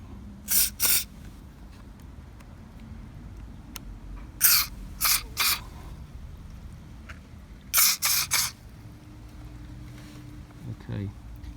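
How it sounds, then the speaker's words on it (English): White lithium grease hisses out of an aerosol can in three clusters of short, sharp, close bursts separated by quiet gaps while a squeaking window regulator on a Mini Cooper R56 is worked on. "I'm going to use some white grease in a can to try and to squirt some behind here"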